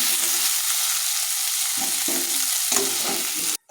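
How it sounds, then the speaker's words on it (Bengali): Shrimp fried briefly in a pan sizzle steadily up close, with stirring scrapes throughout and a short break just before the end. "তো চিংড়ি মাছ আমি বেশি ভাজবো না, অল্প ভাজবো, নাহলে সেন্টটা চলে যাবে।"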